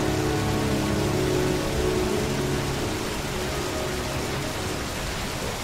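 Rain falling in the video game Heavy Rain, a steady, dense wash of downpour hissing evenly throughout, with a low humming undertone early on that fades away.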